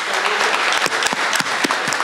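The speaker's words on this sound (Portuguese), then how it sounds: "uma salva de palmas para eles" Applause from an audience at a community territorialization event in Taboão da Serra, São Paulo, as a steady, dense clapping wash that fills the room with no voices over it.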